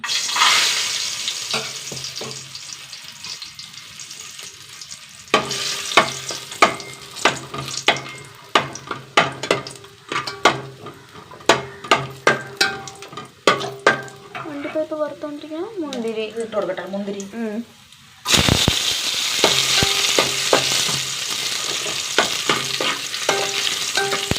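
Cashews frying in ghee for payasam in a home kitchen, a steady sizzle broken by sharp scraping and stirring clicks, with a brief watery bubbling passage before a louder, continuous frying hiss resumes.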